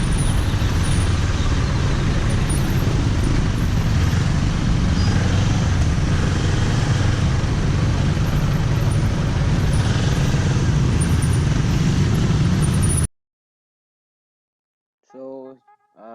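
Road traffic heard while riding a Kawasaki Ninja 400 motorcycle in city congestion: a loud, steady rumble of engines and road noise with passing vehicles, which cuts off abruptly into near silence before a short voice.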